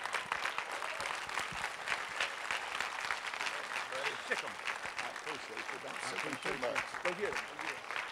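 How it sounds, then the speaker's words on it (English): A standing church audience applauds Bishop Shane Calhoun in a steady wash of dense clapping that lasts throughout, with a voice speaking faintly underneath. "put your hands together for Bishop Shane Calhoun"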